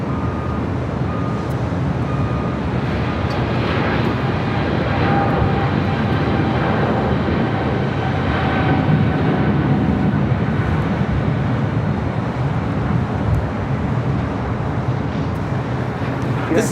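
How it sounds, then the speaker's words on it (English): A China Eastern Boeing 777-300ER takes off from a runway at Los Angeles airport, a continuous loud engine roar with wind buffeting the microphone. "This is China Eastern Airlines 586 taking off to Shanghai on the 777-300ER."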